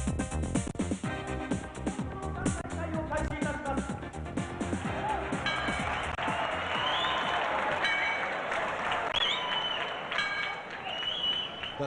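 Large crowd applauding and murmuring inside Tokyo's Budokan martial arts stadium, a steady dense wash of clapping and chatter throughout, with a speaking voice and music-like tones over it.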